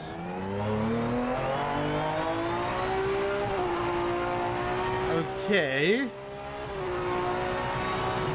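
A race car engine in the video game Project Motor Racing holds a steady, buzzing high drone through a run, with a quick rev blip and dip near the end and a brief spoken word at the start.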